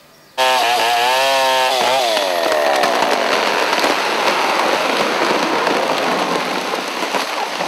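A chainsaw used in large-scale commercial logging of a forest starts abruptly and revs up, then runs loud, steady and close for several seconds, with its whining pitch rising and then holding.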